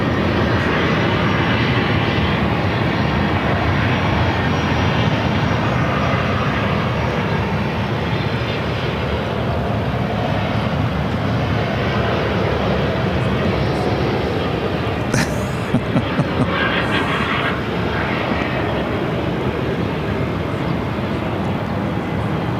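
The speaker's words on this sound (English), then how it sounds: "This is Southwest Airlines, flight 2600, coming in from Chicago Midway on a 737-800" Southwest Airlines Boeing 737-800 arriving at Phoenix from Chicago Midway, a steady, loud jet engine roar that fills the whole stretch, with a few brief clicks near the end and no talk.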